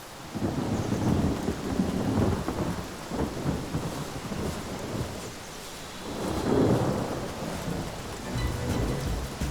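Rolling thunder with steady rain pattering in the fantasy video game Divinity: Original Sin, two long swelling rumbles over a constant rain hiss, with no talking.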